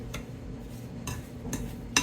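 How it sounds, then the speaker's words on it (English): A spoon stirs a homemade lemon-scented dishwasher detergent mixture with citric acid, giving a few sparse, faint scraping clinks at a steady pace with quiet gaps between strokes. "I'm gonna get a spoon and I'm just gonna stir it up"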